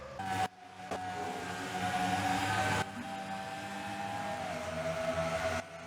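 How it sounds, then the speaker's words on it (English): Race car engines in a NASCAR-style racing video game at Darlington drone and whine steadily in a continuous pack, with a sustained high engine tone that slowly shifts pitch across the clip. "You see just the revving of those engines."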